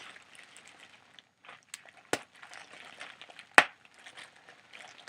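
Small bubbles pop one by one in a quiet close-up setting, with soft crackles and two sharper, louder pops standing out from the faint fizzing.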